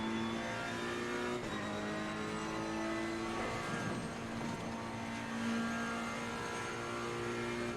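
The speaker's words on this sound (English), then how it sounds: "We can accelerate down the hill" A GT race car in Assetto Corsa Competizione accelerates steadily downhill, its engine holding a loud, continuous high-revving drone with a brief gear change partway through.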